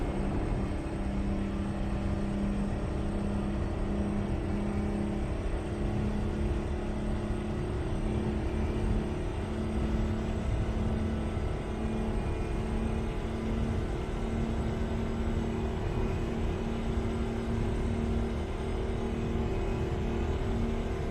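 An old Mack truck engine in American Truck Simulator drones at maxed-out top speed, a constant loud roar with a steady tonal hum that barely changes over the whole stretch.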